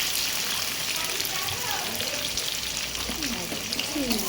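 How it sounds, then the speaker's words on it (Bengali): Ginger garlic paste fries with potatoes in a pan, a steady close sizzle and crackle with faint stirring, and a voice faintly audible beneath it. "এবার আমি আদা রসুনের পেস্টটা দিয়ে দেবো।"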